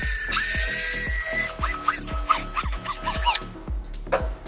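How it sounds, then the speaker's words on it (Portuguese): A drill bores dowel holes into a wardrobe panel through a drilling jig, a steady high whine for over a second followed by a series of short, repeated drilling bursts up close. "Para não fazer muito furo, vou fazer o furo mais posicionado aqui."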